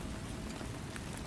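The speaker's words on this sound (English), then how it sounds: "Mesmerized by the rhythmic drumming of raindrops on the canvas above" Rain drums steadily on a canvas overhead, a dense, even wash of soft patter with no pauses, fairly faint and alone.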